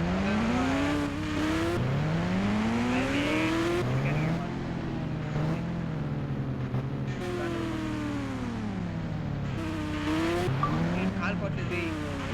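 Motorbike engine in the mobile game Indian Bike Driving, a steady droning tone that keeps rising and falling in pitch as the throttle shifts, loud and continuous throughout with voices talking over it.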